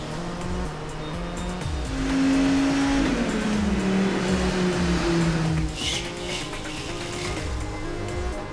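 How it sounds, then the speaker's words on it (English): A Viper supercar engine revs steadily in a rolls testing booth at the factory, a loud sustained drone rising in pitch midway then settling, with mechanical whine and clatter throughout. "This is where we test the vehicle for full drivability, for quality, and for braking, for shifting."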